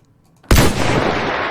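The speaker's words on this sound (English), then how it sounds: "we should be able to fire a shot by clicking. You'll hear the bang." A single sharp, loud bang from an arm cannon fired in Roblox, with a sudden onset and a long, bright, noisy decay that trails off across the rest of the moment.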